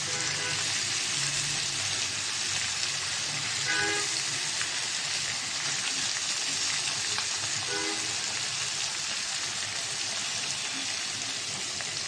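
Fish sizzles and fries steadily in a hot pan, a loud, dense hiss that runs without a break and is heard close up, with a few faint knocks and no talking.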